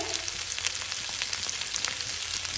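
Vegetables sizzle steadily in a pan as spices go in for a creamy white pasta, with a constant frying hiss and small crackles and faint stirring clicks throughout.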